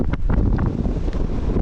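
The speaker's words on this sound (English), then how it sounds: "It's very windy." Strong wind buffeting at the Angle Tarn wild campsite in the Lake District hills, a loud, continuous low roar with gusty bursts rumbling across the microphone, with no voices over it.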